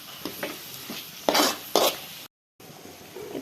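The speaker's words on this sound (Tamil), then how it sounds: "இப்போ நம்ம டொமேட்டோ சேர்த்துக்கலாம். சேர்த்து நல்லா ஃப்ரை பண்ணி விட்டுக்கலாம்." Tomatoes go into a pan of fried onions for egg bhurji, with a sizzle under several sharp stirring scrapes, then a brief gap before the frying resumes.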